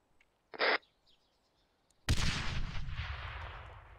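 A frag grenade goes off in a military shooter game: one loud, sudden broadband blast with a long rumbling decay, preceded by a short bright crack about a second and a half earlier.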